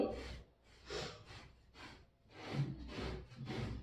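A blanket rubbed by hand for dry cleaning: repeated rough scrubbing strokes in a steady back-and-forth rhythm, close and soft, roughly eight passes with short pauses between.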